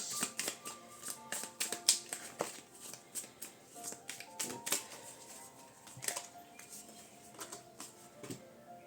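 Tarot cards being shuffled and drawn during a reading, giving a steady run of soft, close papery flicks and snaps with faint rustling between them.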